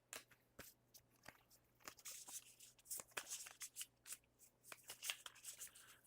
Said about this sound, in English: So I take these and I shuffle them back in the deck, right?